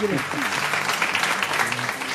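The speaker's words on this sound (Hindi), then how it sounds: "तालियां बजा दे भाई" Studio audience applause on an Eid al-Adha special game show, a steady dense clapping wash that fills the stretch, with a voice talking over it near the start.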